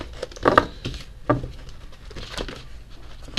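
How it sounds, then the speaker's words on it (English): Soft papery pattering and crinkling bursts of tarot cards being shuffled by hand, irregular and close, with brief pauses between riffles. "I'm not having a good time shuffling these today."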